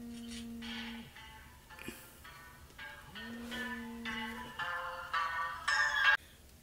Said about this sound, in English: That was my alarm to both start recording